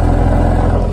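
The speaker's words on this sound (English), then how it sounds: "look at the exhaust. Look what they sound like at idle." A Mercedes-AMG C43 exhaust idles with a loud, close, steady low rumble and a faint rhythmic pulse, no voices.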